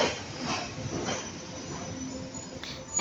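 A train on the Badulla line runs toward Kalawakele station in the rain, giving a steady rumbling, hissing roar with faint rhythmic swells throughout.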